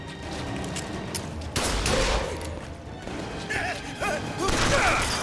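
Gunfire from BioShock Infinite: Burial at Sea breaks out in bursts over loud game ambience and music, with sharp cracks standing out near the middle and again toward the end.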